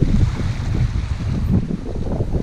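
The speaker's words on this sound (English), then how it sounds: "It is blowing, windy" Strong wind buffets the microphone on a beach during surf fishing for false albacore, a loud, steady low roar with gusty rumble and surf mixed in throughout.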